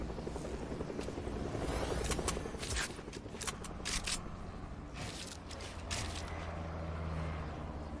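A helicopter in the video game Escape from Tarkov makes a steady rotor drone under scattered sharp clicks and bursts, fairly faint and continuous for several seconds with no talk.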